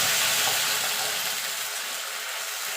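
Whole cumin seeds sizzle in hot oil for tempering, a loud, bright, continuous crackling hiss that eases slightly as it goes on, with no talk over it.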